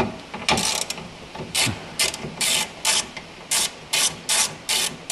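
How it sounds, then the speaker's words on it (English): Ratchet wrench with a 10 millimeter socket loosening nuts on a Toyota Tacoma part, giving repeated short clicking bursts in a steady back-and-forth rhythm, close and alone. "So that is just a simple 10 millimeter socket."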